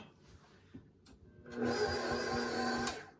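An electric mixer starts up after a few quiet knocks and runs at a steady, buzzing motor whine as it beats Christmas cookie dough with a pinch of salt, close and fairly loud.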